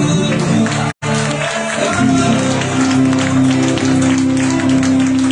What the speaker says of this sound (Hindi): आइए जोरदार तालियां बजाएं।